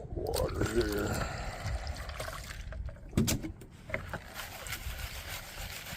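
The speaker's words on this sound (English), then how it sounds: "Let's have a little more water here." Water poured over dark gold paydirt and rocks being washed near Whitehorse, Yukon, a splashing, trickling wash running steadily through the whole stretch with a louder burst midway, someone talking over it.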